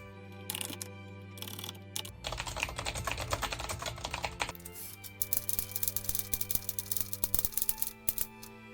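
Fast, dense clacking of a typewriter-style computer keyboard during grading, continuous rattling keystrokes close up with brief pauses and bursts of rapid taps.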